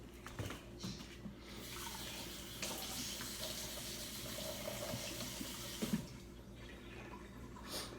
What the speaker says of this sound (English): So right now, what I'm gonna do is rinse it out.